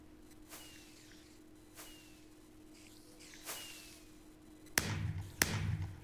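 Fireworks going off somewhere above in a dungeon video game: faint distant whistles and soft thuds over a low hum, followed by two sharper, louder bangs near the end.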